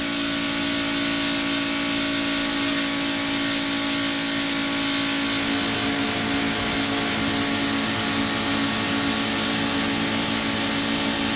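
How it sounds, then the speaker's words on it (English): A NASCAR stock car engine screams at high RPM at Daytona International Speedway during the 1992 Pepsi 400, heard from inside the car as a loud, steady, sustained roar down the back straightaway. "Inside of Mark Martin's car, we see how many RPMs he turns down the back straightaway"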